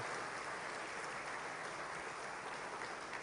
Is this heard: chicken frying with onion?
no